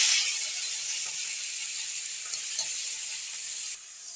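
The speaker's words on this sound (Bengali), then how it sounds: "ওই তেলের ভিতরে আমি চিংড়িটা দিয়ে দেবো।" Prawns coated with turmeric and salt fry in hot oil with a constant bright, hissing sizzle, close and steady throughout before dropping off slightly near the end.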